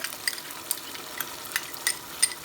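Yogurt goes into hot masala in a pan while making chicken vindaloo, giving a soft, steady sizzle with a few light stirring clicks and scrapes, close and fairly quiet, no voices.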